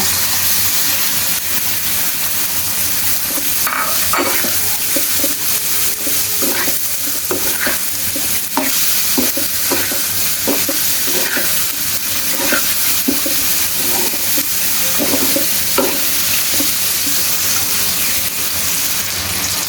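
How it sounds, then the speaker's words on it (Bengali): Chicken livers frying in a hot pan, a steady loud sizzle with scraping stir strokes recurring throughout, no voices. "এর ভিতরে কলিজাগুলো ঢেলে দিব।"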